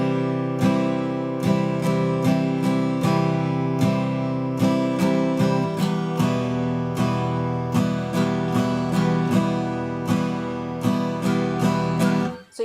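An acoustic guitar strums the chords of a song in a steady repeating pattern, mixing down and up strokes, close and clear with no voices.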